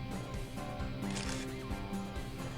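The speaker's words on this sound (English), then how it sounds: "Just then, I heard the snap of a camera shutter." Camera shutter snap in Higurashi When They Cry, a single crisp mechanical click-whirr about a second in, heard over sustained background music.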